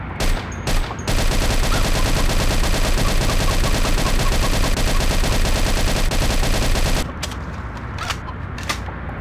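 Sustained rapid shotgun fire from the Dead Trigger 2 mobile shooter, a loud dense burst of blasts for about six seconds, then quieter clicks and handling noises alone.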